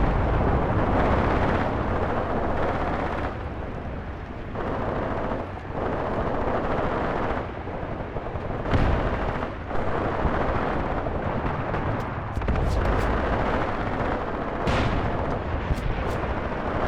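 Bullets cracking past amid heavy combat in the war game Graviteam Tactics, with dense, loud rumbling gunfire and blasts throughout and sharp cracks standing out in the continuous din.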